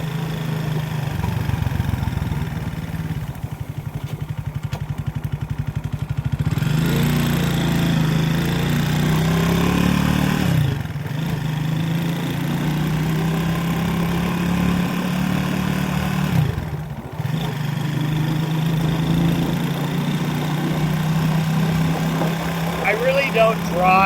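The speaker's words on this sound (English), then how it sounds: "This motorbike is a cafe racer" A cafe racer motorbike idles steadily on a rural road in Thailand, its low engine drone continuous and close with brief dips, while someone talks over it throughout.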